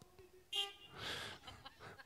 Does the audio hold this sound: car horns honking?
yes